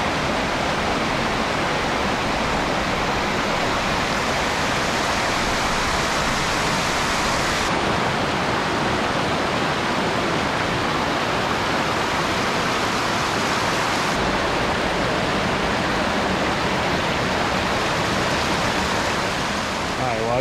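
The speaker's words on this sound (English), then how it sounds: "The waterfall actually goes through like a little gorge of some sort" Caledonia Falls in Caledonia State Park pours through a small gorge, a loud, steady broadband roar of falling water close by, unbroken for the whole stretch.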